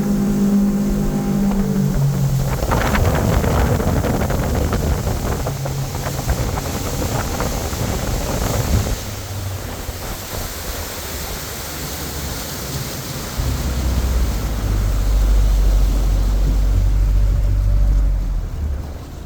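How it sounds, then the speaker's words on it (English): A Mercury 150 HP outboard on a Glastron GTD 180 boat roars at wide open throttle, then drops in pitch and loudness, settling into a low, steady idle rumble with water noise throughout. "from wide open throttle all the way back to an idle, and just sits perfectly at our idle speed"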